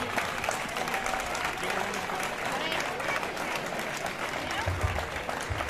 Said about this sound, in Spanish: Un fuerte aplauso para los tres